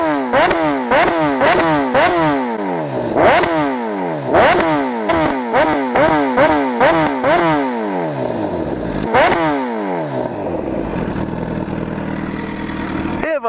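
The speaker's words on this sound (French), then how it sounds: "J'ai fait des flammes avec le pot d'échappement." A motorcycle at night fitted with an aftermarket exhaust that shoots flames, revved hard in a rapid series of loud, close blips that rise and fall, then settling into a rough idle.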